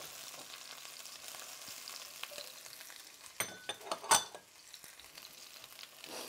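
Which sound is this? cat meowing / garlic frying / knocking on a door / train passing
garlic frying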